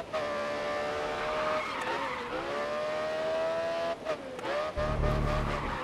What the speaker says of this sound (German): Boah, schöner Drift.